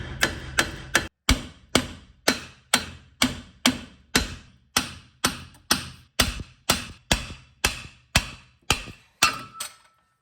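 Repeated hammer blows on a Ford Escape steering knuckle to free it from the strut, about twenty sharp metallic taps in a steady, even rhythm, close and clear with no talk.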